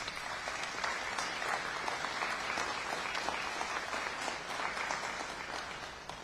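A crowd at a mayor's legislation signing event gives a sustained round of applause, a steady wash of many hands clapping that fades slightly at the end.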